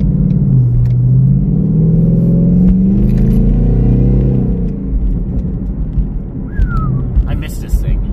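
A car engine runs steadily at close range while being driven to a gas station, a loud low rumble with rising tones as it pulls, easing slightly toward the end.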